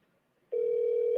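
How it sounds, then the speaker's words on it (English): A telephone call tone plays as a single steady electronic tone with a faint higher harmonic, starting after half a second of silence and cut off by a brief burst at the end. "Wait, did it start ringing?"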